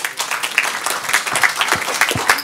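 An evening audience at a health and well-being talk applauds steadily, a dense, fairly close patter of many hands that holds level throughout.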